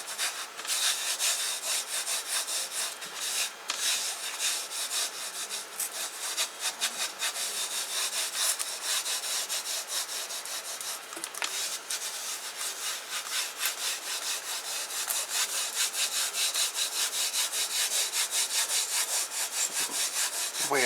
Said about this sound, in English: The way I'm rubbing it, as you can see, backwards and forwards and up and down.